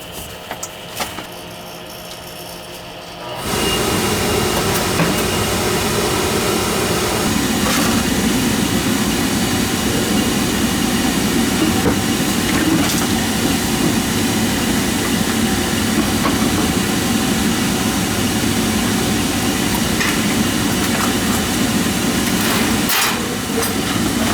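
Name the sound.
oil furnace burner motor running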